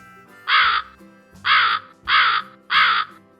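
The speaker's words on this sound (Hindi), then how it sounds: "तो कौए की साउंड मैं प्ले कर रही हूँ" A recorded crow gives four loud, harsh caws at a steady, evenly spaced rhythm, close and clear with no talking over it.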